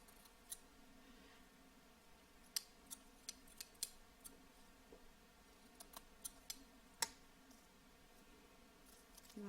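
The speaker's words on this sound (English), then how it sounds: "I'm just going to snip off, just trim that off" Scissors snip and trim scrap paper while making handmade stationery, a series of faint, sharp clicks spaced irregularly over a low steady background hum.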